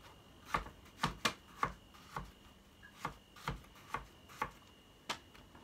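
A knife cuts through a green plantain being prepared for frying, giving a series of about a dozen sharp, faint, evenly spaced taps and cuts against a board.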